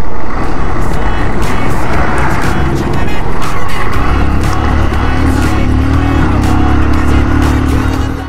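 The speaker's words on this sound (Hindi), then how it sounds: "अब बस मैंने बोला और एक गाड़ी आ गई।" A car passes on a forest road in the hills of Nepal, its engine rising to a loud, close rumble about halfway through and holding steady as it goes by.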